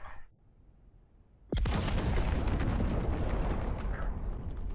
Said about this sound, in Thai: มันระเบิดตรงกลางถนน